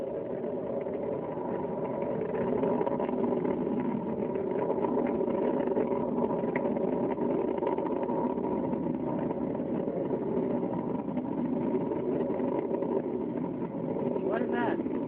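Space Shuttle Atlantis's three liquid-fuel main engines roar during launch, a steady broadband rumble lasting throughout with little change, commentary voices running over it.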